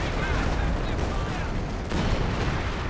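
Return gunfire crackles in a WWII tank strategy game, a dense, continuous barrage of shots and booms with a brief dip near the middle, and a voice talking over it.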